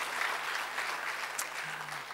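A church congregation claps for Jesus during a sermon, a steady dense wash of applause lasting a couple of seconds with no speech over it.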